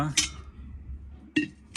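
An old brass gadva water pot clinks and clatters in two short bursts as it is handled, with quiet room tone between the knocks.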